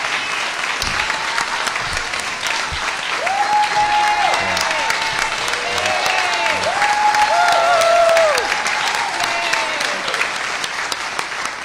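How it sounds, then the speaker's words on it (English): A crowd gathered for a mayor's concession applauds loudly and continuously, with scattered whoops and cheers and a few voices rising over the dense clapping. "the applause says it all"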